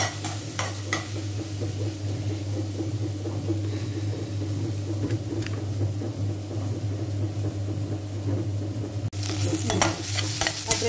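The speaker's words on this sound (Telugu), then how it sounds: "ఆ డ్రై ఫ్రూట్స్ వేసి తీసేసిన దాంట్లో కొంచెం కొబ్బరి వేసి వేపుతున్నాను" Grated coconut fries with dry fruits in a pan, giving a continuous sizzle with scraping stir strokes and occasional clinks of a utensil against the pan over a steady low hum, with no talk.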